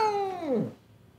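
A Sphynx cat gives a single drawn-out meow that slides downward in pitch and fades within about a second, heard up close with no talking.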